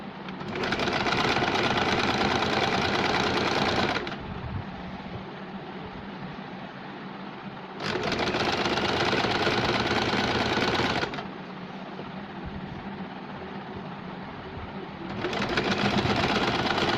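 A sewing machine stitches a finishing seam around the round neck of a double-layer top. It runs in three loud, fast bursts, with a quieter motor hum in between.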